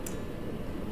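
A single-origin craft chocolate bar snaps in half once, giving a brief, sharp crack close by over a quiet room hum, with no talking.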